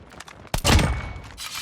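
Gunfire from a video game gun fitted with a changed attachment: one loud, close shot with a booming tail that fades over about a second, preceded by faint clicks.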